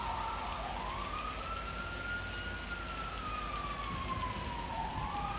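A police car siren in Grand Theft Auto V wails in one long slow rising and falling sweep and then starts to climb again, loud and steady over a constant rain-like hiss, with no talking.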